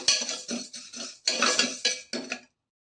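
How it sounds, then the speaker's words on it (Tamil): Black urad dal is roasted in a metal pan and stirred with a spoon, making close, bright scraping and rattling strokes in short bursts, then stopping abruptly; no one talks. "இப்போ கருப்புலந்த ஒரு ரெண்டு நிமிஷம் இப்படி நல்லா பொன்னிறமாக வறுத்துக்கலாம்"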